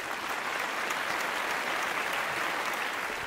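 An audience gives director Rajkumar a round of applause on stage, a steady, even patter of many hands clapping throughout, moderately distant and without talk.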